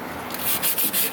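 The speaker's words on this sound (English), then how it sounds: "Just sanding the area that I repaired yesterday," Sandpaper rubs over a repaired crack on the bumper of a 2005 Chevy Silverado single cab, a close, loud scratchy rasp that builds into several quick back-and-forth strokes, with no voices.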